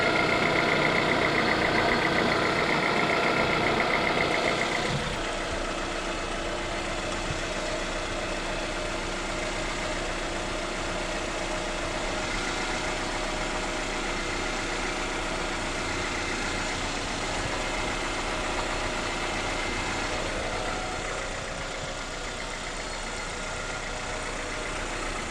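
A Honda CR-V with a hidden leak starts up: a brief cranking burst gives way to a steady, low engine idle that holds evenly throughout, close and moderately loud.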